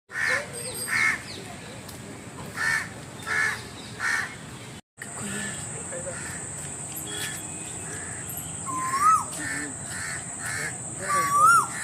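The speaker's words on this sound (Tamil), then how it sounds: "காக்கை குஞ்சு" A young crow caws in a string of rhythmic calls, then keeps cawing more sparsely against steady cricket and insect chirring outdoors.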